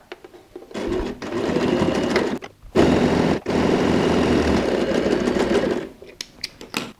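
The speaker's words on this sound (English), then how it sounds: "we just go and sew a 1/4 inch stitch," A sewing machine runs a quarter-inch seam on a handbag, stitching in two sustained loud bursts with a brief stop between them, followed by a few short clicks as it halts.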